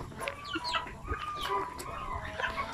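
Native chickens being weighed for sale by the kilo cluck repeatedly and fairly close, with a few brief crowing notes mixed into a steady barnyard clamor.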